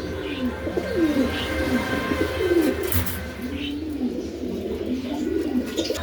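Pigeons coo in a pigeon farm kept at a home, with soft low rolling calls overlapping steadily throughout, some chirps above, against a constant background hum and no talk.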